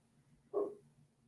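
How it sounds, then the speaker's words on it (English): A single short dog bark, fairly close but quiet, breaks an otherwise hushed indoor room tone. "The dog agrees. Barking."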